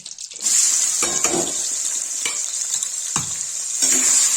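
Oil sizzles loudly and steadily in a pan as onions fry for Kashmiri rajma, with a few clinks and scrapes of stirring breaking through the hiss.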